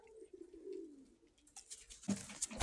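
A blue-grey Krymka pigeon gives a low, soft coo, then fluttering rustles and a few sharper knocks follow as the bird shifts about nearby, all faint and close, with no voices.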